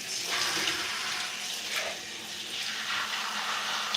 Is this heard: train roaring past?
no